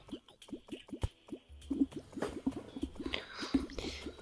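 Water drips and trickles in quick, repeated plinks while liquid is collected in the Terraria video game, the game sounds falling in a steady rhythm without speech.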